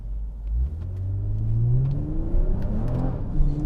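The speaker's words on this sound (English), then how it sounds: "It's got a lot of power when I floor it." 2020 Toyota Camry TRD at full throttle, the engine note climbing in pitch as the car accelerates hard, a loud close rumble rising steadily with the front tires still scrabbling for grip.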